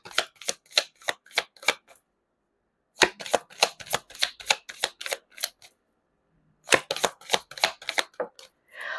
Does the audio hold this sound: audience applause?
no